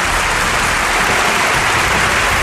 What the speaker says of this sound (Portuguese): Tiagão, bate palmas para a ação dos auditores fiscais do trabalho.